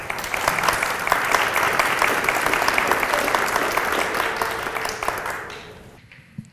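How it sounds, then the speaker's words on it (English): Audience at a community safety meeting gives a round of applause, dense steady clapping from many hands that holds strong for several seconds, then fades out and ends with a last stray clap. "let's give her a round of applause"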